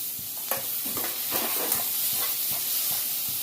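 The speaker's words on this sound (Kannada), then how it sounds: "ನೋಡಿ, ಫ್ರೈ ಆಗ್ತಾ ಇದೆ." Tomato and reddened onions sizzle steadily in a pan for bottle gourd sambar, a constant bright frying hiss broken by a run of soft, regular stirring scrapes close by.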